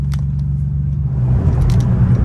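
BMW M3 engine droning steadily from inside the moving car, a loud low rumble that rises slightly partway through, with no talking.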